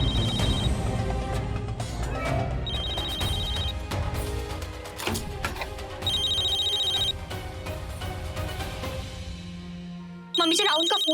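A mobile phone ringtone rings repeatedly inside a room in a home, its electronic chime recurring in bursts over a busy background of music and sound effects.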